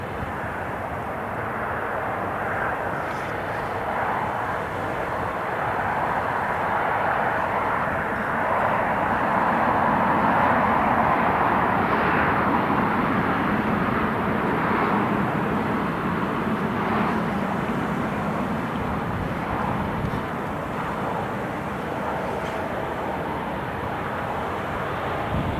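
An Italian Air Force C-27J turboprop landing at Newcastle International Airport, heard as a steady broadband engine roar that holds for the whole stretch, swelling slightly in the middle, with no talk.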